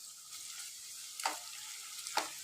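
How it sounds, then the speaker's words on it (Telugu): Turmeric and ginger paste fries in a little oil, giving a faint, soft sizzle with two brief scraping strokes of a spoon. "ఇప్పుడు ఈ రెండు కొంచెము ఆయిల్లో అయితే ఫ్రై చేసుకోవాలి"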